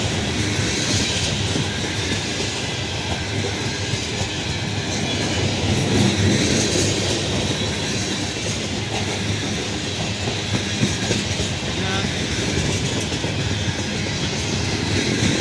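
A train rumbles steadily past at close range in Central Ohio, with rhythmic clatter of wheels on the rails and a broad roar that stays loud throughout.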